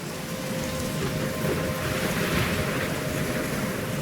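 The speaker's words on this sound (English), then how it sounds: "I'm trapped in a storm?" Stormy weather in the video game Life is Strange, with crashing waves, driving rain and wind making a loud, continuous roar throughout.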